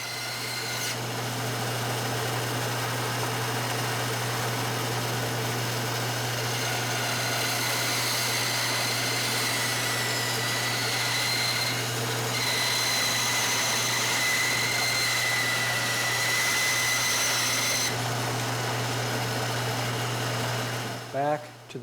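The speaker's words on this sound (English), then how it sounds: "now it's off to the bandsaw to cut away everything that I don't need" A bandsaw runs continuously with a steady motor hum while the blade cuts through wood, pitch shifting slightly as the cut progresses; no talking.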